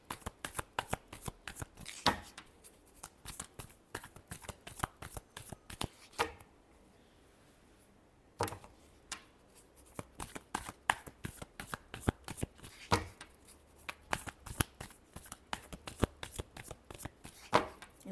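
Tarot cards are shuffled close up in quick riffling bursts, each a crisp flutter of snapping card edges. A short quiet pause comes partway through, then the rapid shuffling resumes.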